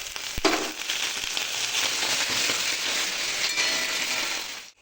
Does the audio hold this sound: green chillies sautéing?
yes